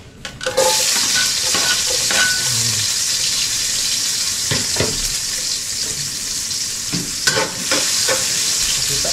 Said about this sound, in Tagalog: Lagay na tayo ng mantika. Okay, konti lang. Lagay tayo ng bawang mga kautol.